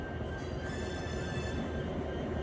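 The Kovai Superfast Express, a passenger train, pulls out of a station on the Chennai–Coimbatore route: a faint, distant low rumble of rolling cars with a thin, steady wheel squeal above it.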